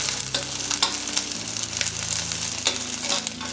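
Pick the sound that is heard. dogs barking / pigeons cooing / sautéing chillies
sautéing chillies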